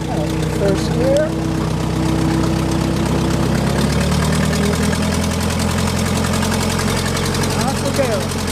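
A 1949 Allis Chalmers Model D motor grader engine runs steadily and loudly close by, a low rumbling drone with a slight shift in tone as it is put into first gear and pulls off.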